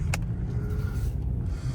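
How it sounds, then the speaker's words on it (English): Road traffic hums steadily nearby, a low continuous vehicle rumble with a brief higher click at the start and no clear voices. "Little traffic, okay."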